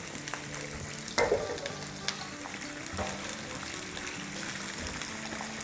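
Thinly sliced vegetables sauté in a hot pan during a home-style chicken jalfrezi cook, with a close, crackling sizzle broken by sharp pops and brief stirring scrapes.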